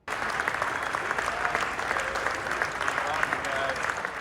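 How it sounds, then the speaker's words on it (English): Hundreds of waiting passengers at Reagan National Airport cheer and clap loudly for arriving Iowa veterans on an Honor Flight, a dense, continuous wash of applause and shouts filling the terminal with voices mixed into the crowd. "hundreds of waiting passengers cheer loudly for the Iowa veterans as they arrive"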